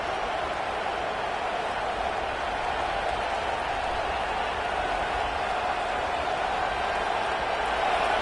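Steady, distant roar of a large stadium crowd at a Texas A&M Aggies versus Trojans football game, swelling slightly on a fourth down, a dense, unbroken wash of noise.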